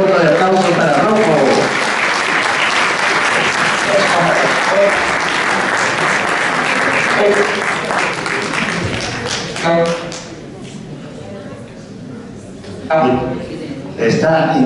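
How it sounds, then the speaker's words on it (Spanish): An audience claps loudly and steadily for several seconds, a dense wash of hands that thins toward the end, with a voice speaking over the fading applause. "Un fuerte voto de aplauso para Rocco."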